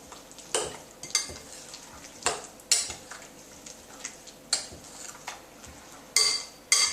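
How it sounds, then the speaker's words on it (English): A spoon stirring raw Thai green curry sauce through chopped vegetables in a bowl, a run of irregular wet clicks and scrapes with brief pauses between strokes, close and fairly quiet, no voices. "So then add that to your veggies and give it a good stir round."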